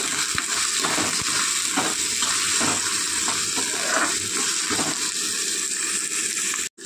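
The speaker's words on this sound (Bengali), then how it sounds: "এবার দিয়ে দেবো আমি গেরিগুলো। এগুলো দিয়েও একটু নাড়াচাড়া করে নেব।" Freshwater snails tossed into a pan of lightly browned onions and stirred, a steady wet sizzle with rhythmic scraping and shuffling of shells against the pan, loud and continuous.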